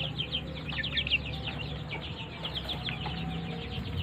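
Week-old chicks in a coop set on the ground give out high, rapid peeps and cheeps in irregular bursts, close by and fairly soft over a low background hum.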